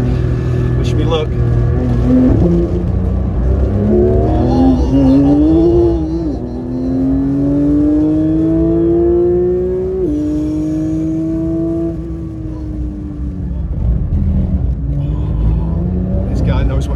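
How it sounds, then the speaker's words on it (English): A Porsche GT3 laps the Le Mans circuit in wet, rainy conditions, its engine heard from inside the cabin rising in pitch, shifting up through the gears and droning steadily on, with a constant rumbling backdrop. "Here we go in a GT3 Porsche at Le"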